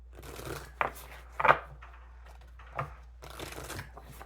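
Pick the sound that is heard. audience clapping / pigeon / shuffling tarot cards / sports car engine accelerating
shuffling tarot cards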